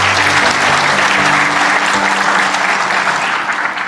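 An audience at a motivational talk claps together in a dense, loud, continuous round of applause that carries on evenly and fades slightly near the end.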